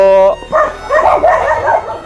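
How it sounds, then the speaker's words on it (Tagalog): A dog whimpers and yips in a few short, high bursts, close and fairly loud, with a brief tonal whine at the start. "Aso."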